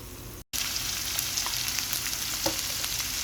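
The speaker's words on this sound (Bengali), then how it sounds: "আমার আদা রসুন ভাজা হয়ে আসছে" Ginger and garlic paste frying in a pan: a continuous close crackling sizzle with small pops, broken by a momentary cut to silence near the start.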